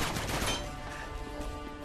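Gunfire from the video game Uncharted 2: Among Thieves rattles in a dense burst at the start, then tapers into scattered quieter shots over a steady game soundtrack, with no talk.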